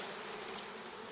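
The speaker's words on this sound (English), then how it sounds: "What we're going to do is called shaking the bees" Honey bees being shaken into a modified Warre hive make a dense, loud, continuous buzz, a close swarm hum with no voices over it.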